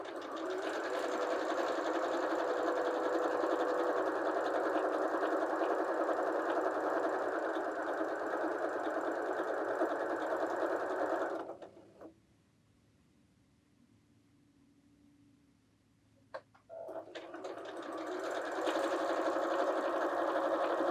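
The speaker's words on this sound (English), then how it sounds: "just keep them lined up as you sew down" A sewing machine runs steadily while sewing quilt block pieces, a close continuous whirring hum that stops for about five seconds, then starts up again and keeps going.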